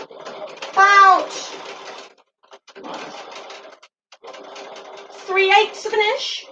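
A sewing machine stitches a fabric seam in short runs of rapid, even clatter, broken by pauses, while a voice talks over parts of it.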